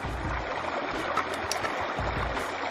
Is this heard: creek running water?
yes